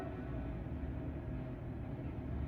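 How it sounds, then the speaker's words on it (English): A passing train rumbles steadily nearby, a dense low-frequency roar that holds constant with no voices over it. "Sorry, that was a train going by."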